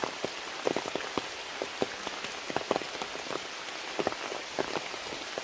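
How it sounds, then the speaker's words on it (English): Heavy rain pours down on the Appalachian Trail in Connecticut near Bear Mountain, a steady wash of patter with scattered sharper drops striking close by, continuous throughout with no voices. "rain's coming down really heavy now"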